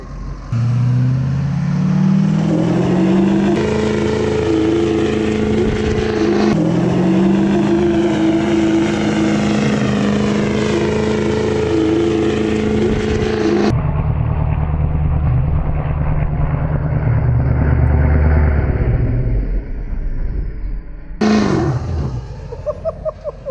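Chevy square body truck with a diesel swap revving hard in several loud, sustained bursts with shifting engine pitch, close and strong throughout, with a brief drop-off near the end.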